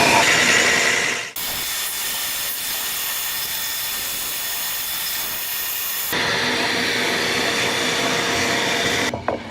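A drill press drills wood, whirring loudly and steadily, its hissing roar shifting pitch partway through before cutting off near the end.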